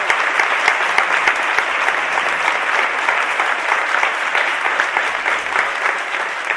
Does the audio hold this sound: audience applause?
yes